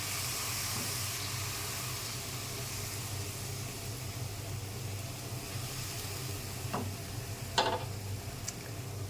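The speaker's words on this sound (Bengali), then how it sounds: "গরম জল দিয়ে দিলাম মশলাটা পুড়ে যাতে না যায় সেই জন্য" Hot water poured onto sizzling spiced masala in a pan while cooking koi fish curry, giving a steady close hiss and crackle with a couple of brief sharper spatters near the end.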